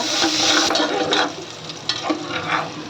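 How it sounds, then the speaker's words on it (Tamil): Chopped shallots sautéing in a pan, a dense continuous sizzle with a few scraping stirs of a spoon through the frying, close and fairly loud. "நல்லா வதக்கி விட்டுக்கோங்க."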